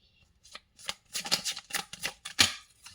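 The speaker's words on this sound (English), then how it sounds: "Cards falling down." Tarot cards riffled and spilling onto a surface, a close run of crisp papery flutters and slaps building to a sharper burst near the end.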